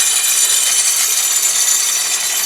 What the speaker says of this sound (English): Sounds like something scraping right in here